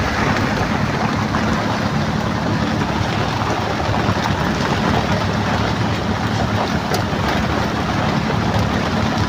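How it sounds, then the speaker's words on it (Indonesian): Heavy rain drums steadily on a car travelling the Tegal to Jakarta road, a dense continuous wash of noise with road rumble underneath, loud and unbroken throughout. "Hujannya lumayan besar nih sahabat"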